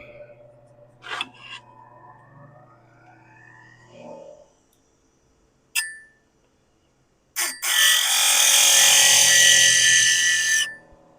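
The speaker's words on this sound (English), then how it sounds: "And I'll leave the grinder running because this is a little bit harder wood." A bench grinder sharpening a woodturning tool rises into a loud, steady high-pitched grinding after scattered clicks and taps, holding for several seconds before cutting off.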